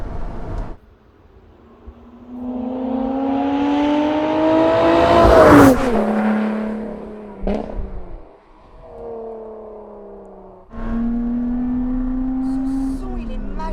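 A supercharged Lotus Exige Sport 410 accelerates hard through the gears, its engine note climbing loudly then dropping at each shift, with a whining rise, a brief lull and another strong pull, heard from inside the car.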